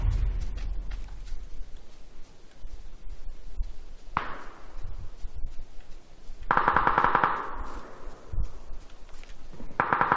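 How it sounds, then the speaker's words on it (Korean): Bursts of rapid automatic gunfire in PUBG: Battlegrounds, coming from above, with a louder sustained volley midway and faint scattered shots around it, over a low background rumble. "위에서 총소리?"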